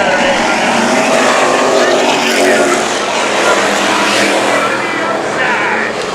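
Street stock race cars roar around a speedway oval after a green-flag restart, a loud, continuous engine blare under an excited commentator's voice throughout.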